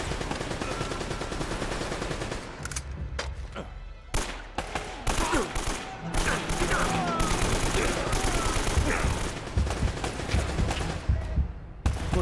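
Video game gunfire in Uncharted: bursts of rapid fire and scattered single shots crackle continuously, loud and close, with occasional mechanical clicks between volleys.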